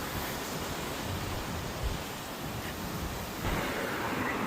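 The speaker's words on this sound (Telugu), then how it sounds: "అసలు ఇంత గాలి వస్తుంది" Strong wind blows hard during heavy winds in Los Angeles, a steady, loud broadband roar that swells slightly toward the end, with no voices over it.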